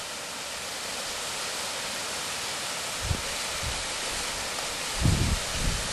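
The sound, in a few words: waterfall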